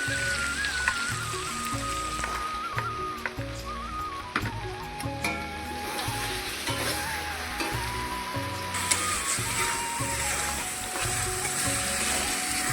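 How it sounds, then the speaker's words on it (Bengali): Ginger garlic paste fries in a hot pan after the water has cooked off, a continuous crackling sizzle like rain on a surface, close and steady with faint scraping taps throughout. "তো এখন এই যে আদা রসুনের পেস্টটা দিয়ে দিব"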